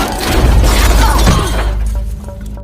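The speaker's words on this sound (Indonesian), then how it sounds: "Mobil mereka pun sampai keluar jalur dan menabrak pohon." A car crashes off the road into a tree in a film, a loud sustained smash of crunching metal and shattering glass that gradually subsides into scattered debris and a low rumble.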